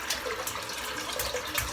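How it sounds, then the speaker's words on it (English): Water runs from a tap into a bathroom sink as it fills for a head shave, a steady close gush with splashy hiss and no talk over it. "So let's just fill the sink up"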